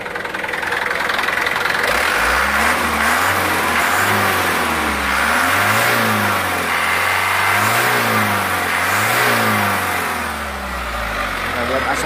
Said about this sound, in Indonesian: Oke, kita coba hidupkan dulu mesinnya.